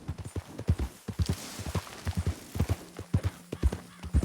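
Horse hooves clip-clopping in the video game Red Dead Redemption II, a steady run of close, distinct hoofbeats with a brief whinny-like tone near the middle.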